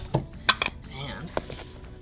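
A plastic cap twisted off an oil drain pan under a car, giving a few close clicks and scrapes, with someone talking quietly alongside.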